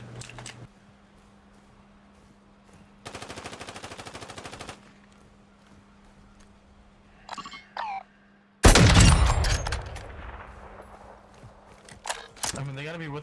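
Gunfire in Call of Duty Modern Warfare 2 DMZ: a long rapid burst of automatic fire, then a pause, a few single shots, and a loud nearby volley with echoing reports and later scattered shots, all without talking.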